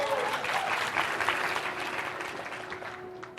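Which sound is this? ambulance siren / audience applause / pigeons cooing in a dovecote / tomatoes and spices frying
audience applause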